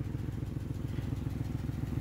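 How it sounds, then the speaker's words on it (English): A Ford Crown Victoria's 4.6 liter V8 idles roughly with its hood up, a close, steady low-pitched rumble with an uneven, pulsing lope and faint mechanical clatter, with no talking over it. "my hand is shaking from how rough it's idling"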